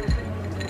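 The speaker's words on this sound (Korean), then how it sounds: "얼음소리가 너무 좋죠?" Ice cubes clink once against a glass of iced flat white at a café in Florence, a single close, bright chink followed by a quiet ringing tail.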